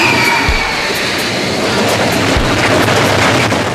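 A Superman roller coaster train runs along its track, a loud continuous rumbling roar with rattling clatter and a couple of low thuds, close by and without talk.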